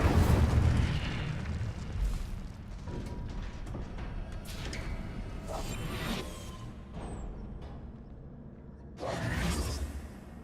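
Spell-casting combat in the Hogwarts Legacy video game, with heavy booming blasts and whooshing bursts over a dense, rumbling layer of magical effects, loudest at the start and again near the end.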